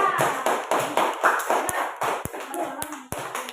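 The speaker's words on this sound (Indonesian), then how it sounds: "beri tepuk tangan kepada kelompok 3" A class claps for a student group after its presentation: a dense patter of hand claps with sharper single claps standing out near the end, mixed with voices in the room.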